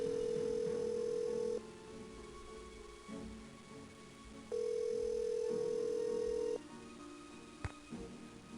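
A telephone in the 1998 Nancy Drew game Secrets Can Kill rings out on the line, with two long, steady electronic tones separated by a quiet pause and a faint click near the end.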